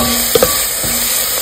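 Wet kimchi sautéing in a pan for an alfredo sauce, a quiet, close sizzle with a couple of short clinks from stirring.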